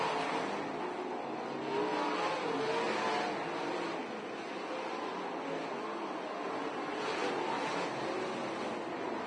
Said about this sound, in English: the big wheel and Neitzel continue to battle for the lead